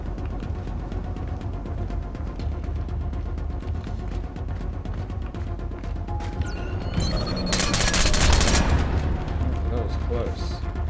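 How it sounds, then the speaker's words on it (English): Gunfire in the video game Splinter Cell Blacklist comes as a string of booming shots over low rumbling game sound, with a louder burst of fire and impacts toward the end. "This gun's kind of powerful."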